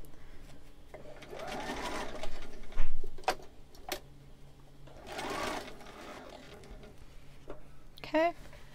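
A sewing machine basting folded fabric for a monk robe runs in short bursts of rapid stitching separated by pauses, with brief handling clicks and rustles between runs.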